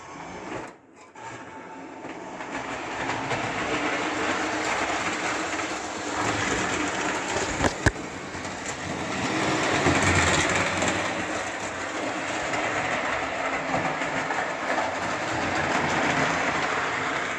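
A Lionel O gauge model train runs steadily on its track, a continuous whirring, rattling rumble at moderate level with a brief click near the start and a sharp tick midway, no voices.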